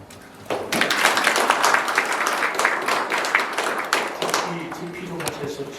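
A room of officials at an expanded executive meeting of Sejong City government breaks into lively applause, dense clapping that swells quickly and then tapers off after several seconds.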